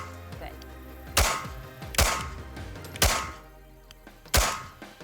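Four sharp handgun shots at a shooting range, spaced about a second apart, each a loud close crack with a short ringing tail over faint background noise.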